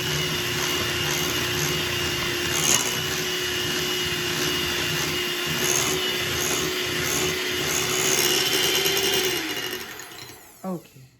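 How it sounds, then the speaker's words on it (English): Electric hand mixer beating chocolate chip cookie dough in a kitchen, a continuous steady motor whine running close and fairly loud, then winding down and stopping near the end. "Okay, I stop here. Now we don't need our mixer."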